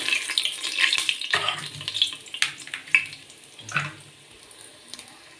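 Sizzling and crackling of whole spices, including star anise, frying in hot oil for chicken biryani, with bursts of spattering that rise and fade over a few seconds.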